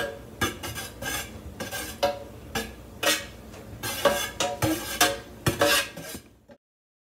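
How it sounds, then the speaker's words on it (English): Melted coconut-soy candle wax and oil stirred in a metal pot, a utensil clinking and scraping against the sides in quick, regular strokes, close and clear, ending abruptly in silence. "stir the other direction for the last minute"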